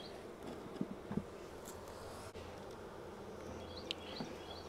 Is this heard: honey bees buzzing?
yes